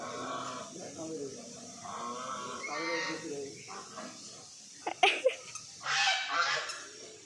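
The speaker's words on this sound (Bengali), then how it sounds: "দুটো রাজহাঁসা রয়েছে, কি বড় বড়" Two large geese by a pond honk repeatedly at moderate distance while people talk over them, with a few sharper bursts near the end.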